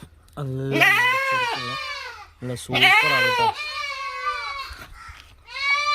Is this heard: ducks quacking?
no